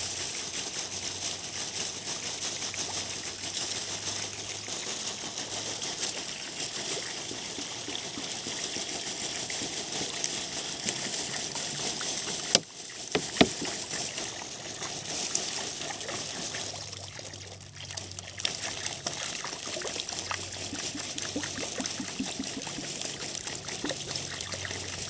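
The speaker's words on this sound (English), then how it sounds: "we're going to start slowly pouring some water in here" Water poured slowly into a mylar-lined container set over a fire, a steady close trickle and dribble running continuously, with a brief break partway through and small splashy changes in flow.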